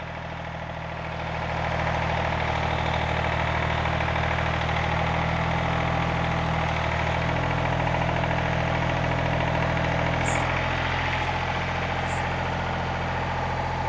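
A John Deere 855 compact tractor engine, just back from an oil and filter change, settles into a steady, moderately loud idle with a constant low hum and faint knocking vibration.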